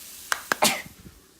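Three quick sneezes in a home kitchen while a sausage and creamy orzo skillet is being cooked, the first two short and sharp, the third a little longer and louder, all close up with nobody talking.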